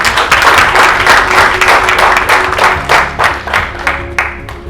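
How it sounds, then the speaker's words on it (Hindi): A live presentation crowd applauds the launch of the My Skill 11 game with loud, dense clapping that rises quickly, stays strong, then thins into scattered claps near the end. "एक बार अगेन उस पे जोरदार तालियां गाइस"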